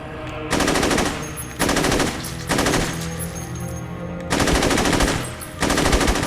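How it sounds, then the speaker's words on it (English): Bursts of automatic fire from the K6 Krukov rifle firing 7.62mm rounds in Saints Row 2, five separate rapid rattling volleys, loud and close, with no talking. "What I can't support is me shooting railings when I was trying to actually aim at the zombies."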